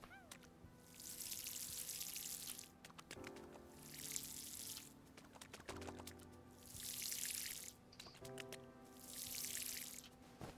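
Water splashes from a watering can over crops in Paleo Pines, four separate bursts of pouring at a steady rhythm, each with a short chime or tone between, no voices.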